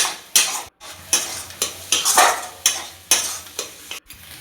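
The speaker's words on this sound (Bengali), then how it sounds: "পেঁয়াজ ভাজাগুলো এক সাইড করে কিছুটা তেল দিয়ে ডিমগুলো দিয়ে দিল।" Eggs fry with onions in oil in a pan, steady sizzling broken by repeated stirring scrapes of a utensil at a regular pace, close and fairly loud.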